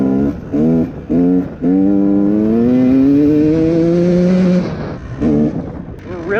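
A KTM 150 XCW two-stroke dirt bike with a Lectron carburetor, idling and being blipped, then held in a long loud rev that climbs in pitch before dropping back, followed by a few short blips close up.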